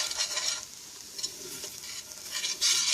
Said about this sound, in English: I'm going to slowly kind of stir it here